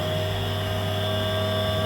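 A Ghost Gunner CNC mill's spindle spins up and runs at a steady whine with a constant low hum and a fixed high tone, loud and close, with no talking.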